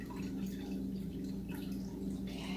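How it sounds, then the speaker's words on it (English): Turkey broth drips from a cooking bag into liquid below, soft repeated drips and trickles over a steady low hum of room noise, heard at close range with no speech. "so it's dripping."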